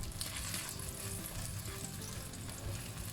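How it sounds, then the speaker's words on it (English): Fish slowly pan-frying for sweet and sour seabass, a steady soft sizzle and crackle of oil that holds at an even low level throughout, no voices. "we want to slowly pan fry the fish"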